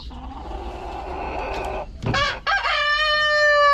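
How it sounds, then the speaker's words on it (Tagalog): Chickens cluck and murmur close by, then a rooster lets out a loud crow that rings over the flock. "Tinutukanan ng manok."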